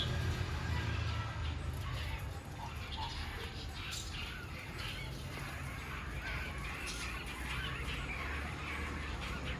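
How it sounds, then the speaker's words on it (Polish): Many small birds squabble noisily over perches in a palm tree in the Dominican Republic, a dense, continuous chatter of calls over a steady low background rumble. "te ptaszki tak jakby walczą o miejsce w palmie"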